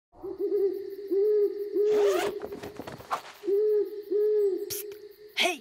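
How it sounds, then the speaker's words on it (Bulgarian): A forest eagle-owl in a cartoon gives a series of clear, repeated hoots, broken by brief rustling bursts between them. "Това е горският бухал."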